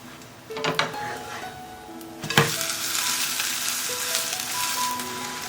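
A seaweed and shrimp paste cake sizzles in a hot pan, with a couple of brief clinks of a utensil as it is flipped before the frying noise swells into a steady, bright hiss.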